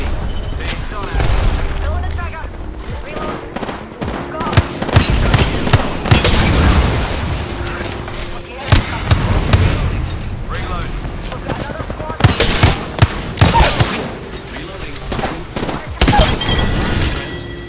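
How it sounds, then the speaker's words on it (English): Rapid bursts of gunfire and explosions in an Apex Legends firefight, heavy overlapping volleys and booms that come in clusters over a busy game soundscape, with voice callouts mixed in. "The enemies are shooting at me."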